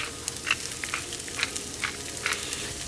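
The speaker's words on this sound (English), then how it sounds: "Drop in the shallots and garlic. And then stir them around, giving them a nice coating." Shallots and garlic sizzle steadily in a hot pan, a close, continuous frying hiss broken by a few soft stirring scrapes, with no voices.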